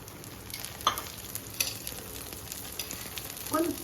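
An onion rava dosa sizzles in ghee on a pan, a steady close frying hiss with a few faint scrapes and taps of a utensil, no talk.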